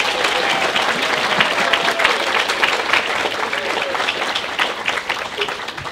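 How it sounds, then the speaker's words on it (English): At a fund luncheon in Northern California, the audience breaks into warm, sustained applause, a loud, dense wash of clapping with a faint murmur of voices beneath it. "I'd like to applaud these young women once again."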